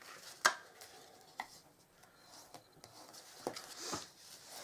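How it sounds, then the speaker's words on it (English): Paper card stock is folded along score lines and burnished, producing a few soft crisp taps and quiet rubbing swishes, close but faint against a hushed room. "So I'm just going to fold those score lines and burnish them."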